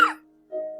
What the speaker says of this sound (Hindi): मुझे थोड़ा सा खांसी हो रहा है